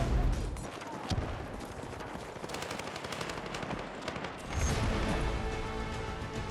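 Battlefield 6 open beta battle on a new map, with dense gunfire and machine-gun bursts mixed with heavy blasts, loud and continuous, with a big booming surge near the end.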